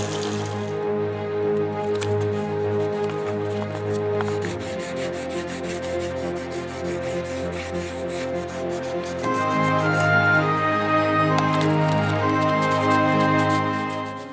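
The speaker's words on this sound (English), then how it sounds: "wet sanding with 220 or 400 grit paper should be enough" Steady wet rubbing and scraping of 220 or 400 grit sandpaper wet sanding paint on a model train, continuous and close, with a faint tonal hum in the background.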